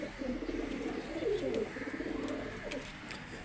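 Domestic pigeons coo steadily close by in a home loft, a soft continuous burbling with overlapping calls from more than one bird.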